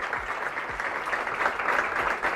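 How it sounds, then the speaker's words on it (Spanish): An audience at an arts centre event in La Plata, Argentina, applauds with dense, sustained clapping that fills the whole stretch at steady loudness, with no break and no voices clearly standing out. "ahí aplauden"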